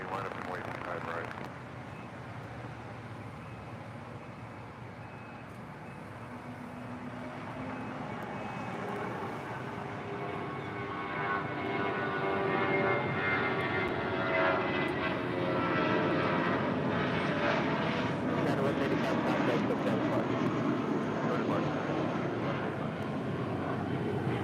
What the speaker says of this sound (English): That is United 1068 coming in from Houston Intercontinental. That is a max 9.